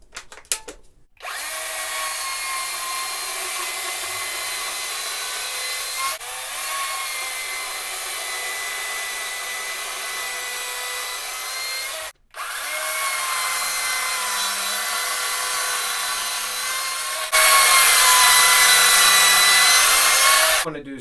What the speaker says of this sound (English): We're going to come in with the bar and turn it and cut down.